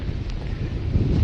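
Strong cyclone winds of Cyclone Nisarga buffeting the microphone in Mumbai, a loud continuous low rumble with gusty swells and a roaring wash of noise, no one speaking.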